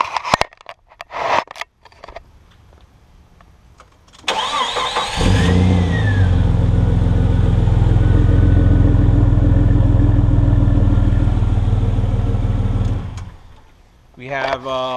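A lifted Jeep Cherokee with performance catalytic converter and Flowmaster exhaust cranks and fires up after some handling noise, then settles into a loud, steady idle for several seconds before cutting off, with brief talking around it.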